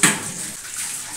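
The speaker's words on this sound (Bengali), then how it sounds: "বাসনগুলো এখন কষলে কষলে রোগড়ে রোগড়ে ধুয়ে নিচ্ছি" Dishes being scrubbed and rinsed with soap under running water in a home kitchen, a brief steady wash of splashing flow close by, loud and alone.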